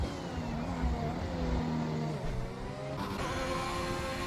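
In the F1 2021 video game at a Spanish circuit, an Alpha Tauri race car closes in behind a Ferrari, giving a faint, steady engine whine with a gear-shift step partway through.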